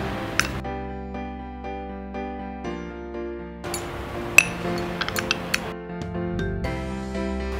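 A spoon stirs a pepper powder mixture in a small container, giving light metallic clinks and taps, a few sharper ones standing out, over a quiet steady background.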